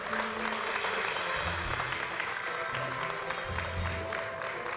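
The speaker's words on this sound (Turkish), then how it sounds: "Alkışlarla uğurluyorum." A studio audience applauds on a Turkish television show, a dense, steady wash of clapping that holds for several seconds with low murmuring voices beneath it.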